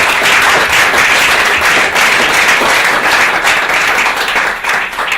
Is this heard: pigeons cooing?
no